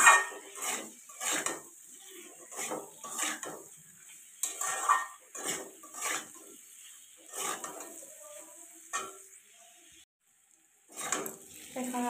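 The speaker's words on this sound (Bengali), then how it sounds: "ওল আর আলুটা ভালো করে এখন কষিয়ে নিতে হবে।" Elephant foot yam and potato pieces being stir-fried in a pan for a tilapia fish curry, heard as repeated spatula scrapes and clatters in bursts, with a faint sizzle and short pauses between strokes.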